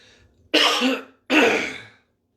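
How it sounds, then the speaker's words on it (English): Two loud, harsh coughs close up, each trailing off, separated by a short pause in an otherwise quiet room. "This is not virus coughing."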